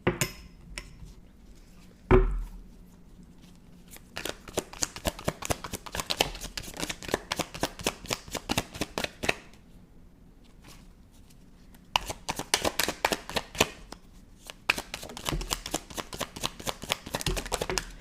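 Tarot cards being shuffled and pulled, with bursts of rapid riffling flutter and soft card slaps separated by short pauses, close and clear, with no voices.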